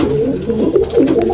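Small domestic pigeons, a loft of females and young birds, coo close by in soft, repeated throaty rolls that rise and fall, with no other sounds or voices.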